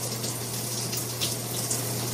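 Shower water runs in a steady, constant broadband spray, with a low steady hum running beneath it.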